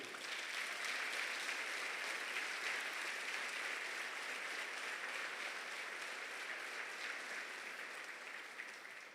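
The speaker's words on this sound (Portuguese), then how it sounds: "dá um aplauso lindo para Ele" Sustained applause from a church congregation during a sermon, a dense, even wash of many hands clapping at steady loudness for about nine seconds with no talk over it.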